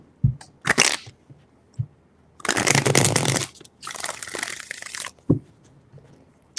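A deck of tarot cards being shuffled by hand. Two longer crackling riffle bursts are set among short taps and flicks of the cards, close-up and crisp in a quiet room.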